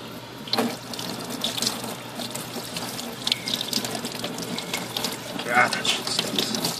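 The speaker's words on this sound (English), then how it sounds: "Hit it with some cold water." Cold water runs from a tap into a sink with a steady splashing flow, fairly close, while a person speaks briefly over it.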